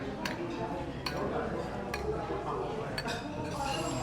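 Metal utensils clink and scrape against a bowl as a paco fern salad is tossed with a vinegar and sugar dressing, with light irregular clinks under soft talk.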